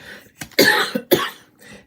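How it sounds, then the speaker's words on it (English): A person coughs a few times in short, close bursts, with brief pauses between, sounding rough and chesty. "got that morning cough thing going on"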